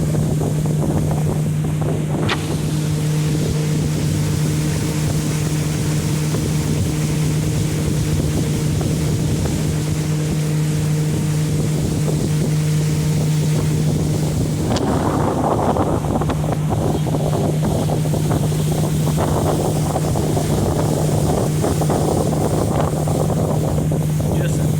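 A 2014 Sun Tracker 22FB pontoon boat motor drones steadily on a lake under heavy buffeting wind noise, with a low engine hum throughout and a shift in pitch partway through.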